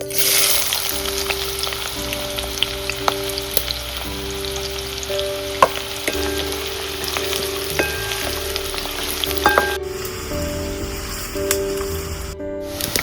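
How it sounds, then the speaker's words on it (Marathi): Onion frying in hot tempering oil, a dense, steady crackling sizzle with scattered sharp pops, close and continuous, easing slightly near the end. "चला तर फोडणीत कांदो टाकते"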